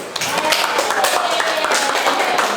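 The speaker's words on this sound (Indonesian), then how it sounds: "Tepuk tangan lagi" Classroom audience clapping for a student group during a teaching practice session, a short burst of brisk hand claps mixed with voices.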